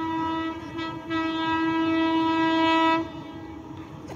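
The Teesta Torsa Express passes Balagarh on the Howrah–Katwa line, sounding a loud, steady horn blast of about two seconds over the rolling rumble of the train.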